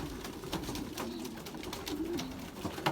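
Young Belgian racing pigeons coo in low, repeated, throaty phrases against a steady rushing background, with sharp flutters and clicks scattered throughout.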